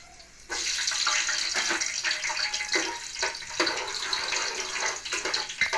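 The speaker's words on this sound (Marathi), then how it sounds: "तेल तापलेलं आहे बघा मी लसूण टाकते" Garlic dropped into hot oil starts a loud, hissing sizzle after a brief quiet moment, then keeps crackling steadily and close up.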